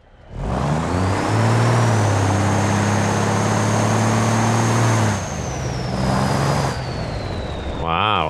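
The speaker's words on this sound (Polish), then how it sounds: "Ciekawe, czy słychać te turbo sprężarki." In the BeamNG driving game, a twin-turbocharged truck engine revs hard with a rising turbo whine that holds steady, then eases off and climbs again before a brief hiss at the end, loud and close.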